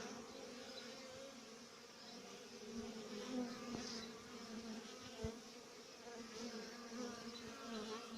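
Honey bees making a winter cleansing flight around their hive, a faint continuous buzzing hum of many insects close by, steady with slight swells and a couple of soft knocks, with no speech.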